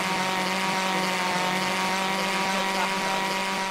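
Helicopter rotor from a Garry's Mod addon whirs as a steady, loud, dense drone with constant pitch throughout, close up and uninterrupted, with no other sounds standing out over it.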